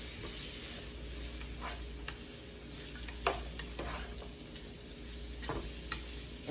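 Kale and sweet potato sizzle quietly in a pan while being stirred, a faint steady hiss broken by soft scrapes and clicks of the utensil, with no voices.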